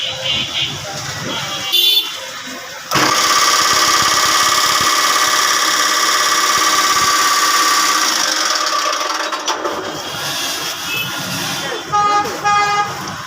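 A new-model electric fodder-cutting machine for cattle runs loud and close with a steady whirring drone for several seconds, starting and stopping abruptly with brief mechanical clatter before and after.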